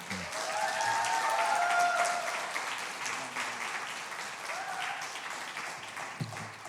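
A church congregation at a Sunday service applauds steadily, a dense patter of clapping that holds for several seconds and then gradually thins out.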